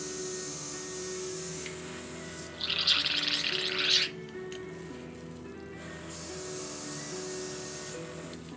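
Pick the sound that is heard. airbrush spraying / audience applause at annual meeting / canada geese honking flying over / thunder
airbrush spraying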